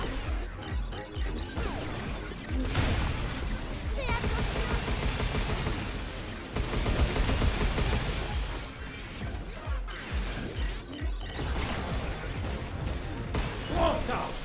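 Sustained gunfire from the video game Pragmata on a hardcore lunatic difficulty, dense rapid bursts and impacts running almost continuously, loud and layered with game effects.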